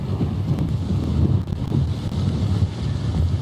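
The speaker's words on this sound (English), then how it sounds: "the wind coming across Lavaca Bay to my right" Strong hurricane winds from Harvey roar across Lavaca Bay at Port Lavaca, a steady, heavy low rumble buffeting the microphone throughout with no let-up.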